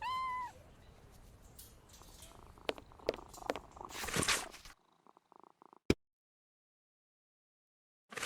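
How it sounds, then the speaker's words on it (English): An injured cat in the Sherlock Holmes vs Jack the Ripper video game meows a few times, then purrs in a low, rough rumble. A short sharp tap follows before the sound drops to near silence. "This cat seems to be in a sorry state."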